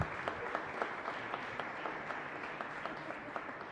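A congregation at Mass in a chapel gives a warm round of applause, a dense, even clapping from many people filling the space with a few sharper individual claps standing out.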